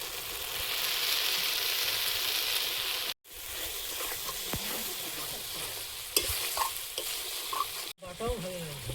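Sour curd goes into a hot pan with cashew, poppy seed and fennel paste, followed by steady frying sizzle and spoon stirring. Scraping clinks recur, with a brief gap partway through, and there is no talk.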